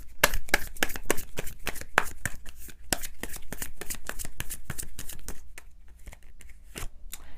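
Tarot cards are shuffled close up, a rapid run of crisp riffling slaps and flicks that continues steadily throughout, loud and alone with no talk.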